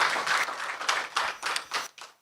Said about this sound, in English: I believe that deserves another round of applause